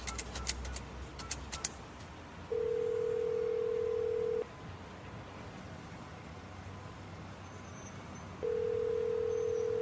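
Telephone call placed from a phone booth: a rapid series of dialing tones, then two long steady ringback tones separated by a pause, with faint street traffic underneath.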